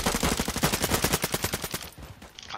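Rapid automatic gunfire in the Warzone video game, a steady burst of closely spaced loud shots that fades near the end.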